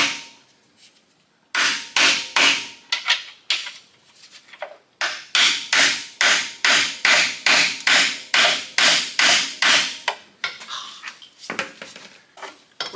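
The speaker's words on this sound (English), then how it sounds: "I'm gonna get a hammer." Loud, sharp metallic hammer blows on an engine piston during a Jeep 4.0 engine swap strike in quick rhythmic bursts, dozens of hits with short pauses between groups.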